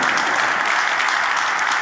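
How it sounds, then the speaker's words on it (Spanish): Dense, sustained crowd applause at a political rally in Argentina, loud steady clapping filling the whole moment without a break. "pido un fuerte aplauso para Tancho Bianchi,"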